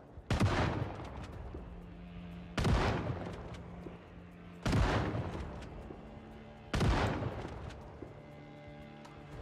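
Gunfire in a zombie video game: four heavy, booming shots spaced about two seconds apart, each with a long rumbling decay, loud and close with no talk.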